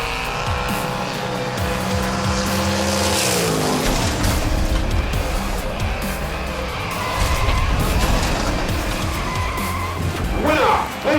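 Hot Wheels diecast cars racing down a track, a dense rolling rattle and whir of small wheels running continuously and loudly, with a brief scraping clatter at the finish near the end.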